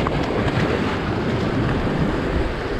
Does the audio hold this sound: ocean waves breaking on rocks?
yes